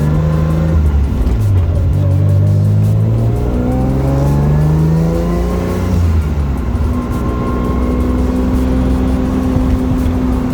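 A car fitted with an HKS titanium exhaust, resonator removed, drives past on the way to a Supra gathering, engine note rising and falling through loud revving shifts, steady and close throughout.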